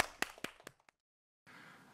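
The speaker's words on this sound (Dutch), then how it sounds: "Toppie, applaus voor jezelf." Short burst of clapping from a small group after a children's dance lesson at a theatre event, a few sharp claps fading quickly into near-silence before a low murmur returns.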